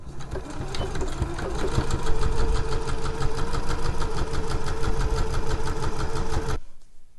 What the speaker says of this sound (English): do a little understitch just on this lining side